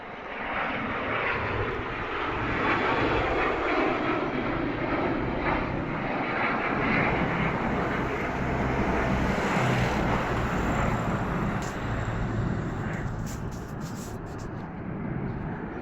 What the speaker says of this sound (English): There's a plane taking off now.